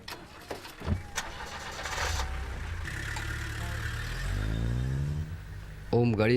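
A car engine turns over and pulls away, with a rising, steady drone that builds into a revving departure over a few seconds, mixed with scattered thumps and a brief voice near the end.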